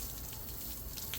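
Running water rinsing salted kosher poultry around the collar, a faint, steady tap stream splashing softly with a few brighter spatters near the end.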